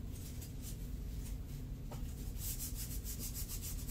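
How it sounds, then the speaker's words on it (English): Close scratching and rubbing against the bottom of a basic tray being prepared for resin art, a steady abrasive rasp that brightens and intensifies toward the end, with no talking. "let me just make a few little scratches in the bottom"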